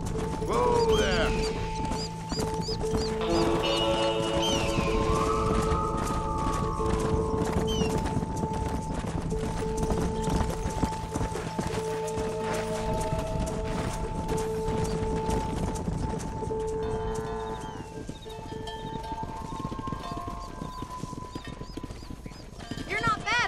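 Steady hoofbeats of several horses herding cattle in Red Dead Redemption, with occasional whinnies and creaking tack, running throughout while voices talk over them.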